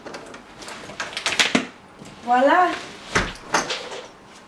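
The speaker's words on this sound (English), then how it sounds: "Unlock the door." A door is unlocked and opened with a series of clicks and clunks of the latch and handle, with a person speaking briefly amid the handling noises.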